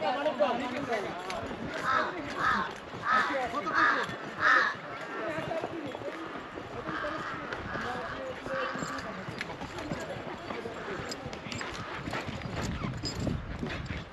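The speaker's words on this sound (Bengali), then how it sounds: "এই দেখেন ঘোড়া কিভাবে দৌড়াচ্ছে, দেখেন কিভাবে দৌড়াচ্ছে" A horse carrying two riders climbs a mountain trail in Kashmir, its hooves clip-clopping in uneven bursts with a few clearer thuds early on, under a steady outdoor rumble and talk.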